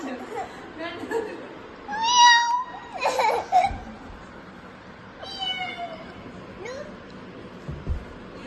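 A cat meows several times from somewhere nearby, with drawn-out cries rising and falling in separate bursts amid household background noise, while people talk quietly around it.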